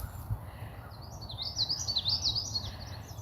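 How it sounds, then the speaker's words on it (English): A bird sings a quick, high, warbling trill that rises and falls for a couple of seconds over a low background hum. "Beautiful sounds of the birds."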